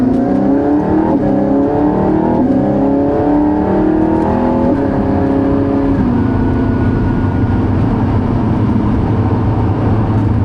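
An Aston Martin Valhalla engine revs hard through rising gears, each upshift dropping the pitch before it climbs again, then settles into a loud sustained drone.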